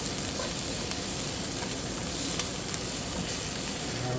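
Cabbage sizzling steadily in a hot pan as scallions are stirred in, a dense continuous crackle with faint scraping, moderately quiet, with no voices.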